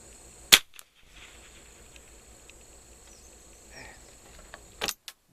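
Two sharp gunshots from a Martini Mk3 rifle firing different shells, one early and one near the end, each a crisp loud crack set apart by a quiet outdoor stretch.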